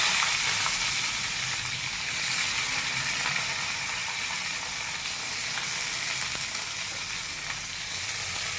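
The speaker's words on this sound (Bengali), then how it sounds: "এবার আমি কাঁচা পেঁয়াজ কাটা আছে, পেঁয়াজগুলো ভেজে নেব।" Chopped raw onions fry in hot oil after the tempering spices, giving a steady, dense sizzle that holds evenly throughout, close and fairly loud, with no talking.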